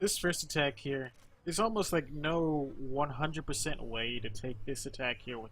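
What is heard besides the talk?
No distinct noise like a dog, phone or traffic.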